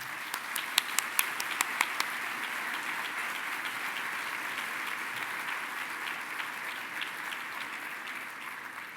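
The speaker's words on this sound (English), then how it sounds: "Let's give them a big round of applause." A luncheon audience applauds elected officials with a long, even wash of crowd clapping, a few crisp nearby claps ringing out in the first seconds before blending into the steady applause.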